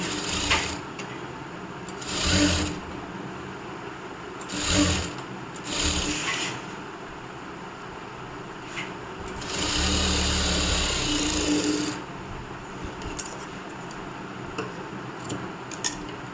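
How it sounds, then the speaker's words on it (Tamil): A sewing machine runs a holding stitch on blouse fabric in several short whirring bursts, including one longer steady run, separated by quiet pauses with light handling clicks and no speech. "டர்ன் பண்ணிவிட்டு மேலே ஹோல்டிங் ஸ்டிச் போட்டுக்கிறோம்."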